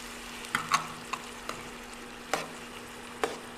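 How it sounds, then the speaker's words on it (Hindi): Tomatoes and capsicum fry in a pan for a duck egg curry, giving a quiet steady sizzle broken by several sharp clicks and scrapes of stirring. "इसको हल्की से थोड़ा भून लीजिए"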